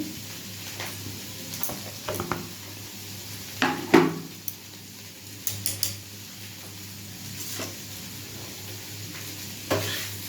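Food frying gently in a pan on a home kitchen stove, a soft low sizzle broken by a few sharp knocks and scrapes of a spatula against the pan, no talking.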